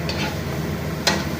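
Sautéed shrimp stirred in a pan with a light sizzle underneath, a steady soft scraping texture punctuated by one brief sharper clack of utensil on pan, near and moderately loud, no talk.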